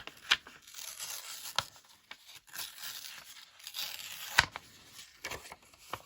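Scrap paper is torn by hand to make a mask for card stamping, giving several sharp rips amid continuous soft rustling and crinkling, close and quiet with no talk.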